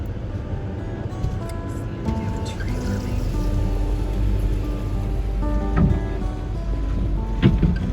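Ferry crossing a river in Arctic country: a steady low engine rumble with rushing water and wind, loud and continuous, with faint tonal music on top and brief knocks near the end.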